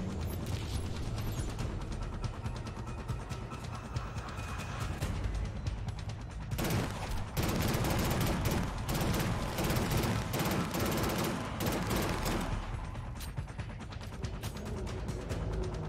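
Gunfire rattles in the first-person shooter Killzone Shadow Fall, with dense, continuous bursts and heavy volleys that swell loudest in the middle, along with mechanical clatter.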